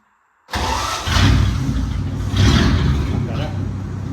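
A vintage Chrysler Speedster engine fires after silence and settles into a loud, close, rumbling run with slight surges in revs.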